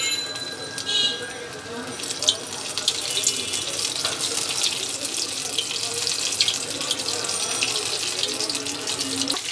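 Tomato and gram flour fritters deep frying in soybean oil, a steady broad hissing crackle that runs continuously with a brief faint clink near the start and no talking.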